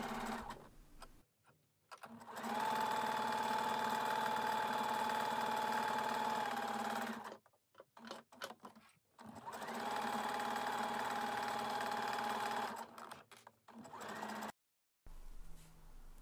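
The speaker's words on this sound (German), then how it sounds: "und dann wird das Ganze zusammengenäht" A sewing machine sewing a muslin scarf runs in two long steady bursts of humming, rapid stitching, separated by short pauses with small handling clicks, moderately close and with no talk.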